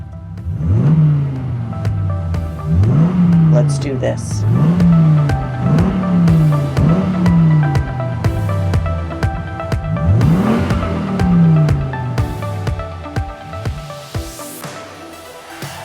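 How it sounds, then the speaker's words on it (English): Car engines starting and revving as a sound effect, a series of loud rising revs in quick succession, ending with tire-squeal-like sweeps; a voice speaks briefly. "Start your engines."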